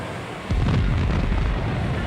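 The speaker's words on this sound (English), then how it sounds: "Within 3 seconds of the first explosion, a second torpedo found its mark." A torpedo explosion strikes a warship with a sudden deep boom half a second in, followed by a loud rumbling roar that sustains and slowly fades to the end.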